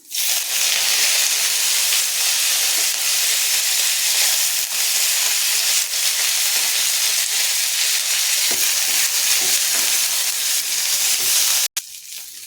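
Garlic, black peppercorns and curry leaves fry in hot oil in a pan for curry leaf kuzhambu, giving a loud, close, steady sizzle and hiss that runs almost unbroken before stopping abruptly near the end, with no talking.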